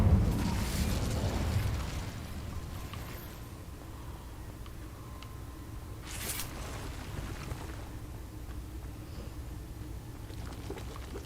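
An Incendio fire spell in Hogwarts Legacy bursts with a whooshing, rumbling blast at the start, followed by a quieter stretch and another short flaring burst.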